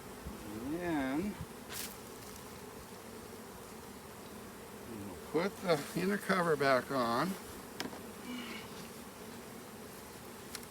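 Honey bees swarm around an open hive in a continuous, close droning buzz, while a person speaks briefly over it at the start and again midway.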